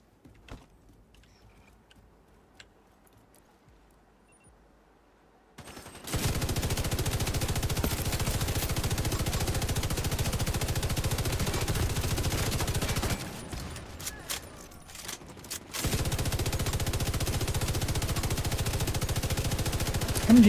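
MG5 machine gun fire in The Division video game, starting after a quiet stretch and hammering out long, loud sustained bursts, with a brief pause before the rapid fire resumes.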